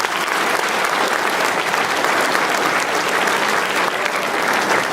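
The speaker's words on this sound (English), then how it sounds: "One last round of applause." Steady, dense applause from an audience at a high school winter sports awards night, many hands clapping continuously and loudly for the full stretch with no break.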